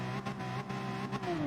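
Porsche 911 race car engine in a Group 3 racing video game at Catalonia, a loud continuous engine whine with a rising and falling pitch over a short stretch.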